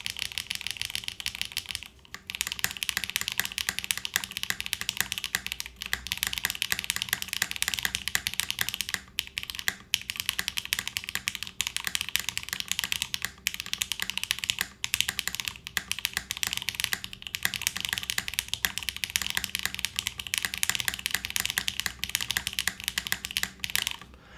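Steady fast typing on a DR-70F mechanical keyboard with PBT keycaps and a polycarbonate plate with no foam. A dense stream of close, crisp clacks continues without a break, with a few brief pauses and no voice.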